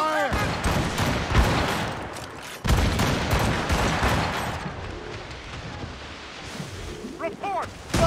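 Naval cannon broadsides in the Assassin's Creed Rogue sea battle boom in dense, loud volleys with rumbling blasts, while crew voices shout throughout.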